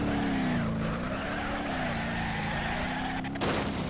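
Old beat-up car accelerating hard in BeamNG.drive, a loud droning engine note rising and wavering in pitch, ending in a sudden harsh burst of noise.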